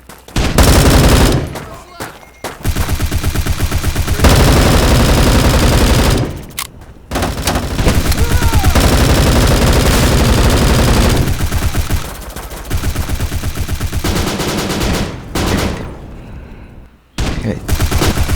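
Sustained automatic gunfire from the Unity-built online shooter Bullet Force fills the scene in long loud bursts, broken by a few brief pauses, with bits of a player talking underneath.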